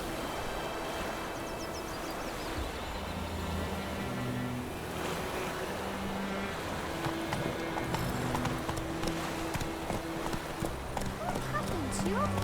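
Hooves of the horse Roach galloping in The Witcher 3 video game, a steady fast clip-clop running throughout alongside game music and ambient sound, with a character's voice speaking over it.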